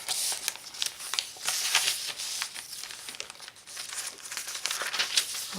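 Sheets of lined paper in a vintage sewing journal are handled up close, with continuous crisp crinkling, rustling and flicking in quick irregular bursts, fairly quiet and with no talking.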